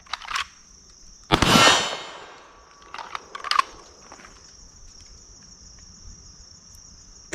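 Gunfire at targets downrange during firearms training: one sharp, loud shot rings out with a long decaying tail, followed by a couple of fainter cracks and clanks against a steady insect-like background hum.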